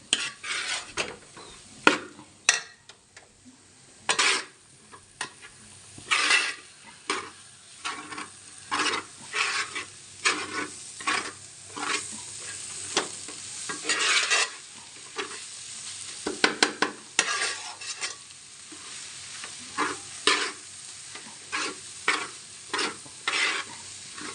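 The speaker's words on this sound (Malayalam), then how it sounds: "നല്ലപോലെ ഒന്ന് ഇളക്കി കൊടുക്കാം." Ingredients frying in a pan are stirred with a utensil, giving repeated close scrapes and clatters over a steady sizzle, without talking.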